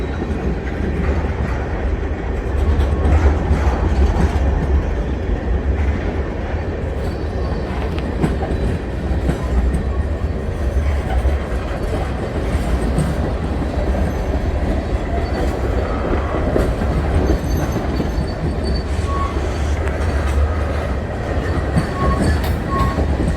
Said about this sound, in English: Yeah, there's another train behind it waiting to get in.